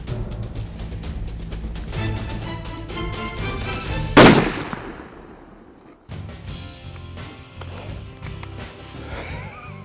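A single sharp, loud gunshot with Armscor Trophy Class ammunition cracks out at a shooting competition, its echo fading over a couple of seconds amid background noise and voices.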